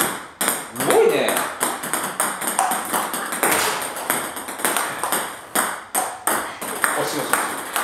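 A table tennis ball is struck with loop drive strokes in a practice rally, giving sharp, bright pings and taps at a steady rhythm, close and loud, while people talk and react between hits.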